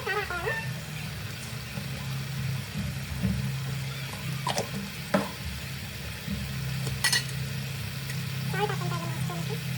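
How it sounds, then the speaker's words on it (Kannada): Paneer gravy bubbling in a pan, with a low continuous simmer and occasional stirring clinks and scrapes, heard close under quiet talk. "ನೋಡಿ ಈ ಥರ ಕುದಿತಾ ಇರುತ್ತಲ್ಲ"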